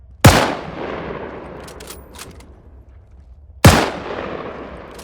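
Two loud rifle shots in Arma 3 running the IFA3WarMod mod, each a sharp crack with a long reverberant tail, spaced about three seconds apart with no talking.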